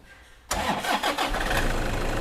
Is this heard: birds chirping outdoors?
no